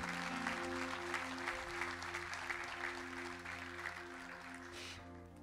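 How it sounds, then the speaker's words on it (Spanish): A church congregation at Betania claps steadily in a sustained round of applause under a sustained musical tone, fairly faint and continuous. "Denle un fuerte aplauso a Dios"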